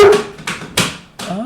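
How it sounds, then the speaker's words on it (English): Several sharp dog barks in quick succession, loud and close indoors, with a yelping, slightly whiny edge and short gaps between each bark. "My dogs are barking."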